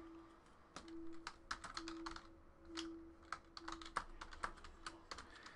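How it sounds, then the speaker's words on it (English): Someone types on a computer keyboard, with rapid, uneven bursts of clicky keystrokes and short pauses, close and fairly quiet. "let's type in these hits"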